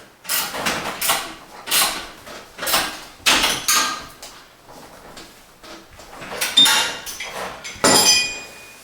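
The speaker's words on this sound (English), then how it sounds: "I'm going to pry on my bar, and I'm going to tighten up my drive belt here" A bar pries against a treadmill frame to tighten the drive belt, making a series of rough metallic scrapes and creaks in irregular bursts close by, with a few sharper clinks near the end.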